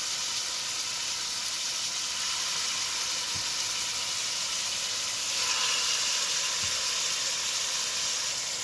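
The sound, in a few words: stew beef frying in hot oil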